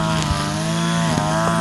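Chainsaw running steadily at a constant high pitch during fence and hedge clearing in mountain pasture, loud and close, one continuous drone with no talking.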